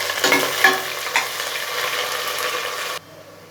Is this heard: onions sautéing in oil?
yes